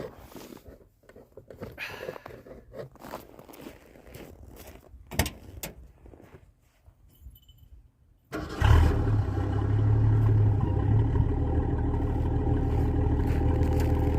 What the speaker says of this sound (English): let's listen to this thing fire up. Because it has a sweet, sweet exhaust tone.